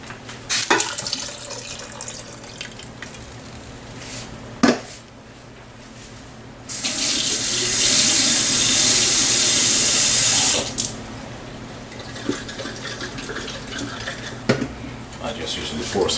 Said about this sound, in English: I just usually pour some water in the pan, like a half a can